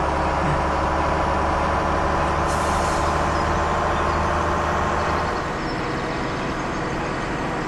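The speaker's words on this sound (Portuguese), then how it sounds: "O caminhão decolou aqui." In the Farming Simulator 17 video game, a truck engine drones steadily, a short air-brake hiss bursts out partway through, and the engine note then drops to a lower idle.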